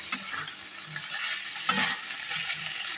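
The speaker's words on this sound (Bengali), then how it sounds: "সিদ্ধ করে হাতে একটু ম্যাশ করে রাখা ডুমুরগুলো কিন্তু এখানে দিয়ে দিচ্ছি দিয়ে ভালোভাবে কিন্তু মিশিয়ে নেব" Mashed boiled figs being stirred into a vegetarian curry in a pan, soft scraping and clicking spoon strokes with a gentle sizzle beneath, a couple of sharper knocks standing out.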